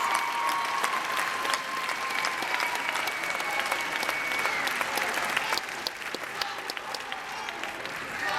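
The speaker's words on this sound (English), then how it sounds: "You should clap for those young people" Sustained audience applause fills a large political convention hall during a vice-presidential speech on marriage equality, a dense steady roar of many hands with faint crowd voices, easing slightly near the end.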